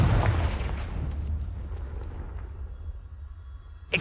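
Confringo fire-blast spell exploding in Hogwarts Legacy, a deep booming burst at the start that rumbles and decays over a few seconds, with a sharp crack right at the end.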